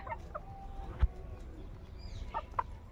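Farmyard hens cluck in short, scattered calls, one sharper squawk standing out, over quiet outdoor background with no talking.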